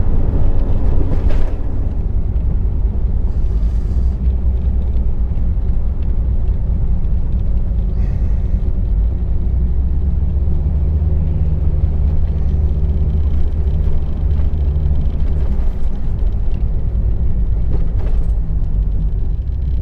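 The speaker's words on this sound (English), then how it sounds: "There's always traffic in Bergen County." Road traffic in Bergen County, New Jersey, a loud continuous low rumble of passing vehicles with wind buffeting the microphone, steady for about twenty seconds without speech.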